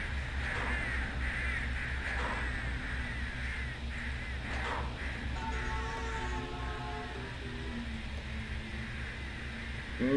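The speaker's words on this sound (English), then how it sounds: "Look at those birds." Crows caw in a rail-yard scene in the train simulator game Trainz 2019, giving a few short calls over steady engine hum and background noise.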